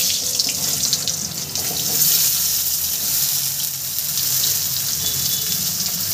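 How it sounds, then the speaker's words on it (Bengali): Mango pieces tipped into hot oil for pickle set off a loud, continuous hissing sizzle that stays steady throughout with no talking, sounding much like rushing water. "এবার আমি তেলের মধ্যে আমগুলো দিয়ে দেবো।"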